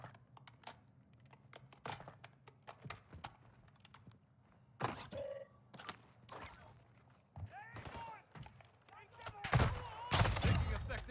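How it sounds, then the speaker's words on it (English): Sporadic gunfire in Call of Duty DMZ, scattered sharp shots and short bursts that grow louder and denser toward the end, mixed with keyboard clatter and voices talking. "Taking effective fire"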